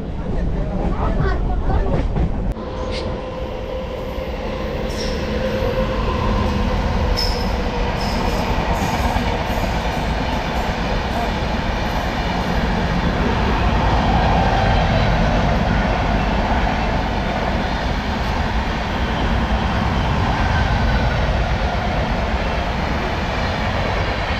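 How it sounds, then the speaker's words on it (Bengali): The Vishwabharati Intercity express rushes past on the railway line near Bardhaman, a loud, steady roar of wheels and rattling carriages that sustains throughout, with faint squeals near the start. "বিশ্বভারতী ইন্টারসিটি গেল, আমরা এবার বর্ধমানের দিকে ঢুকছি।"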